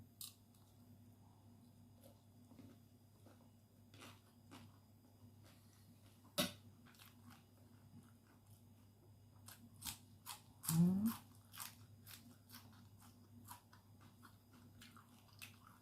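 Someone eats stir-fried basil shrimp up close, with soft crunchy bites and chewing amid quiet background hum and occasional clinks, one louder crunchy burst standing out near the end.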